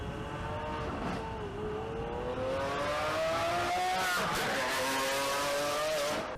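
The Ubermacht Sentinel XS from GTA Online revs steadily for several seconds, its engine note climbing and dipping in pitch, loud and continuous with no voices.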